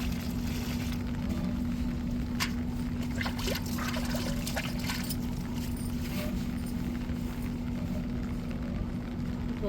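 Water trickles and pours steadily onto soil around a garden plant, a constant close splashing flow with a low steady hum beneath and no talking.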